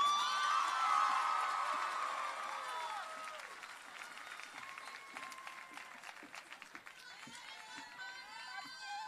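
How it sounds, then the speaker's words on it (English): At a high school graduation ceremony, a crowd applauds and cheers, with excited shouts and whoops over the clapping, which thins toward the end into scattered claps and voices. "Please give a round of applause for Miss O'Connell"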